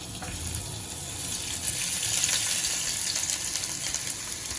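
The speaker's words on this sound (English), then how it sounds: "The oil has heated up. Now we'll add in shallots." Chopped shallots hitting hot oil in a pan for pork vindaloo, giving a steady, close hiss of frying that swells slightly midway and carries on without talk.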